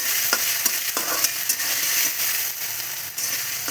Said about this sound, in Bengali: আলু লাল লাল করে ভাজা হয়ে গেছে